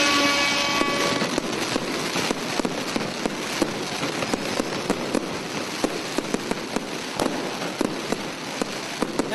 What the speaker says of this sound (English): we get you the fireworks, because that's a new state